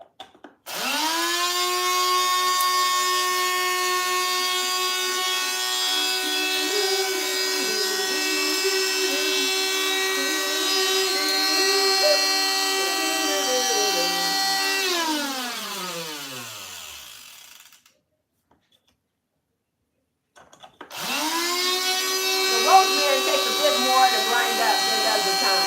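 An electric spice grinder pulverising about a teaspoon of dried rosemary with thyme, a loud steady high motor whine lasting many seconds that winds down to silence, then starts up again for another burst.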